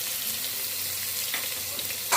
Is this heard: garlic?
yes